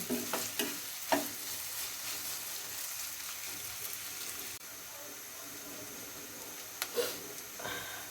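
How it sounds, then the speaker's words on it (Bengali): Sliced onion and chopped green chilies fry in hot oil over a low flame, giving a steady soft sizzle broken by occasional stirring clinks and taps. "পেঁয়াজটা ভাজা হওয়া পর্যন্ত অপেক্ষায় থাকুন।"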